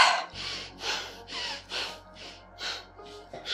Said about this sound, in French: et expire.